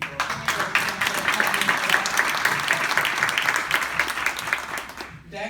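Sustained applause fills a retirement party, a crowd clapping steadily with dense, even patter for several seconds before it fades near the end, with speech faintly mixed in.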